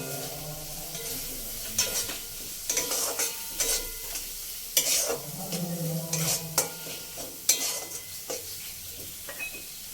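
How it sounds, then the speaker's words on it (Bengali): Tomato and spice masala for a tangra fish curry is stirred and fried in a pan, with frequent spatula scrapes and clanks against the metal over a steady sizzle, close up and with no speech. "দিয়ে একটু জল দিয়ে টমেটো মশলাটাকে ভালো করে কষিয়ে নিতে হবে।"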